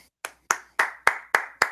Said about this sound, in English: I'm applauding you.